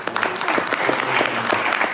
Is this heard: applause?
yes